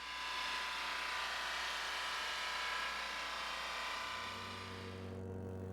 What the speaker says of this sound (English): The drum sander smooths the surface of the stock